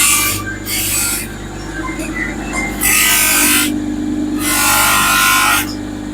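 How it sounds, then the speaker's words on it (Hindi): A brass Khatu Shyam idol is sanded with a sandpaper strip on a power tool, giving a loud continuous motor hum with repeated bursts of harsh abrasive rasping as the strip meets the metal, close up. "पहले कटाई हो रही है रेतमाल की पट्टी से।"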